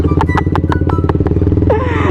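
Motorcycle engine idling and revving up close, a loud rapid pulsing putter with clattery mechanical ticks, rising in pitch near the end.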